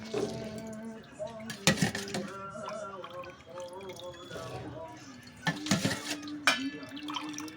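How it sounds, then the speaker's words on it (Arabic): Peas are lifted from hot water and dropped into a bowl of cold water, giving splashes and clinks of a dish with dripping water, two louder bursts between quieter handling, while someone talks throughout. "طلعها من المية السخنة تحطها في المية الساقعة"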